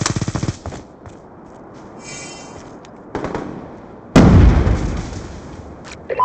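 A sentry gun firing in a video game: loud rapid automatic bursts broken by short gaps, with a heavier, closer burst late that rings out for a moment.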